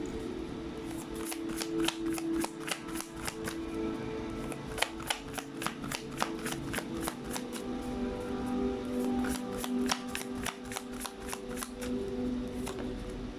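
Cards being shuffled and drawn for a pick-a-card reading: a long series of sharp, rapid riffling clicks and flicks over a low steady hum, close and clear, with no speech.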